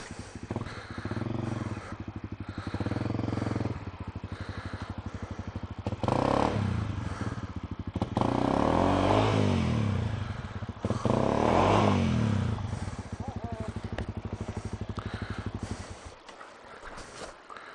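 Honda CRF250L dirt bike fighting through deep mud on an extreme enduro trail, its engine droning and revving in surges with clatter and splashing, close and loud throughout.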